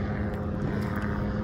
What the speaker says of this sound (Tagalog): Ay, ganda na helicopter